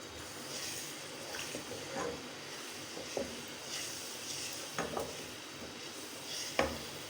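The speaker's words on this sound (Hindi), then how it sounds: "मीडियम फ्लेम पे हम इसको 3 से 4 मिनट भून लेते हैं।" Whole masoor lentils roasting in a pan over a medium flame, quiet scraping and stirring with soft dry rustles and a few light clinks, no talking.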